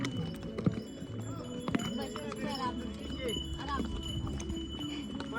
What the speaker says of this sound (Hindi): तो ऊपर से भी घोड़े आ रहे हैं